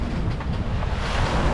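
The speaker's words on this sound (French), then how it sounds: "Bon, on a toujours énormément de vent." Strong wind buffets a sailboat at sea on an Atlantic crossing from Bermuda to the Azores, waves surging around the hull in a steady loud roar with microphone wind noise throughout, no voices.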